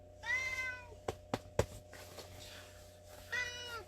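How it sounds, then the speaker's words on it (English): A pet cat meows loudly indoors, two drawn-out calls separated by a few seconds, with some soft knocks and thumps in between. "My cat just had to come in."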